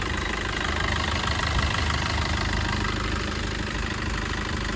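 A 2018 Maruti Vitara Brezza VDI diesel engine idles in a steady, even rumble with a faint clattering texture, continuous and close, with no voices.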